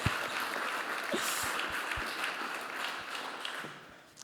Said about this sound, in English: also a round of applause this morning for everyone being here